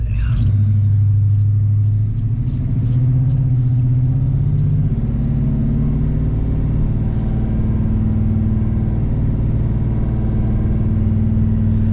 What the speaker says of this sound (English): See, the truck's all warmed up. Good oil pressure.